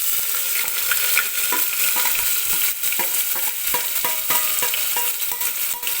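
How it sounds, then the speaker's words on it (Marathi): Chopped onion sizzles steadily in hot oil inside a pressure cooker, with repeated scraping and stirring strokes at close range over a continuous loud frying hiss. "आता आपल्याला सुरुवातीला कांदा टाकून घ्यायचा आहे कुकरमध्ये"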